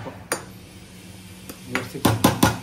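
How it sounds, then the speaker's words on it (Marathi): Metallic clanks of a lid being set on a pot of cooking mutton: one knock, a pause, then a cluster of quicker rattling clinks. "आता मी डायरेक्ट झाकण ठेवून ठेवते"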